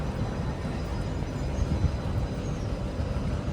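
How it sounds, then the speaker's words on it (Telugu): Low, steady rumble of a train pulling away from the small Krishnamma Kona station on the Giddalur–Kurnool line, a continuous heavy mechanical drone with no voices, holding at an even loudness throughout. "ట్రైన్ బయలుదేరుతుంది"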